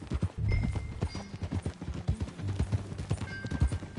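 Horse hooves clip-clop in a steady walking rhythm in the video game Red Dead Redemption 2, close by, with a brief whinny and faint background music.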